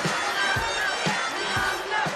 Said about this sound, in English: That's the female cheering section that follows him wherever he goes